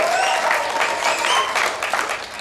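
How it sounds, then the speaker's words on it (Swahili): A church congregation at a Sunday new-year service in Kanisa la BMC erupts in loud, sustained cheering, clapping and joyful shouts, a dense wall of crowd noise with a few high whistles throughout. "Pigie Yesu kelele za shangwe."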